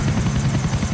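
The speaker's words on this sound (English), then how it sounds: "There will be times when 5 or more helicopters are attacking you at the same time." A helicopter in the GTA video game thuds with fast, regular rotor chops over a loud engine buzz, close and continuous for about a second with no voices.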